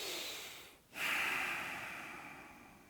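Deep breathing during a myofascial back release yin practice: a long, steady breathy exhale after a brief pause, close and fairly soft, with no talking.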